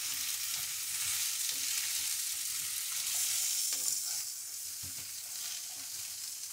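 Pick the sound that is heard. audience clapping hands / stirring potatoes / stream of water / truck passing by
stirring potatoes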